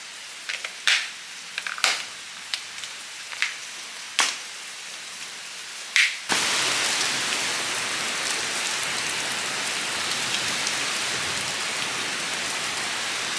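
Steady rain hisses across the whole scene after several sharp drips and taps, falling evenly and fairly close with no voices.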